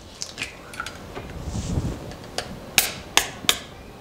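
Flavouring for a fish finger coating is mixed in a bowl, with soft scraping and stirring followed by several sharp clinks of a utensil against the bowl, close and fairly quiet, with no talking.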